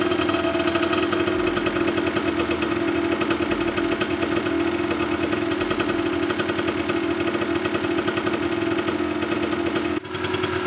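A 1991 Suzuki TS200R two-stroke dirt bike, jetted rich and running on premix, idles loudly and steadily with a raspy, buzzing two-stroke drone close by, cutting briefly near the end.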